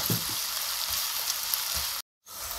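Onions sauté in a pan for a Tamil lentil-ball kara kuzhambu, a dense close sizzle with a brief gap of silence before it resumes.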